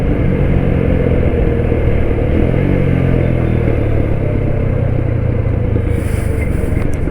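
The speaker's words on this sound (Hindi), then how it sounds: "अभी ये पूरा एडवेंचर बाइक्स का ग्रुप." Group of adventure motorcycles including a BMW GSA and a Ducati Multistrada riding together, a loud steady engine rumble and drone with layered exhaust notes, continuous throughout with no talk.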